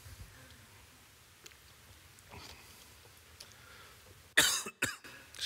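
A man coughs a few times, loud and close, in a quiet church setting after a stretch of near silence.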